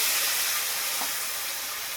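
Papaya, potato and green chilli hitting hot cumin tempering in a pan, a steady loud hiss of sizzling that eases slightly over two seconds, no voices.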